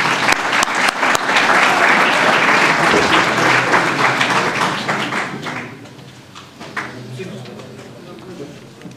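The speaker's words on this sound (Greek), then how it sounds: "ένα θερμό χειροκρότημα" A school-hall audience at a road-safety seminar gives loud, sustained applause that tapers off after about five seconds, leaving scattered claps and murmuring.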